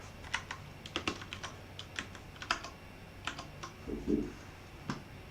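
Rapid bursts of typing on a computer keyboard, clattering keystrokes in short irregular runs with a brief duller knock near the end, fairly close and moderately quiet with no talking.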